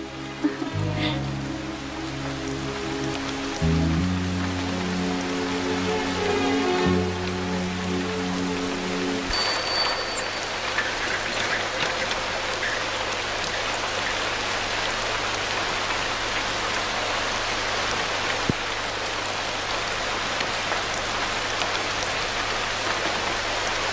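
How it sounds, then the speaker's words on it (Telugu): Rain falling at night, a dense, continuous hiss of drops on surfaces, with a low tonal hum over the first part before the downpour continues alone. "పైగా వర్షం."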